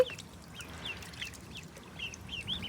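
Young ducklings on a balcony give thin, high peeping quacks, scattered and repeated several times, soft and close over a quiet background.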